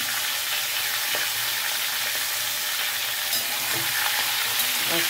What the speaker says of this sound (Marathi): आता मी ह्याला पूर्ण हलका फ्राय करायचा।